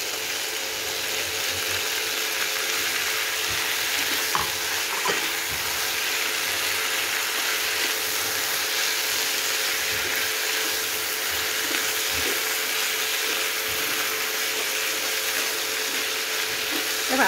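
Vegetarian mock meat stir-fries in a pan with pickled mustard greens, giving a steady loud sizzle broken by occasional scraping clicks from stirring.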